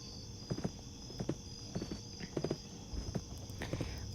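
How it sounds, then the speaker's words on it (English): Horse hooves clip-clopping at a walk while ridden, a few spaced clusters of hoof knocks over a steady background hum, moderately close, with no talking. "Always riding my horse."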